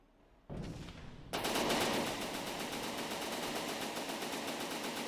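Gunfire from a shooting weapon block in the video game From the Depths: a brief hiss, then a loud, continuous rapid-fire burst of evenly spaced shots that keeps hammering steadily to the end.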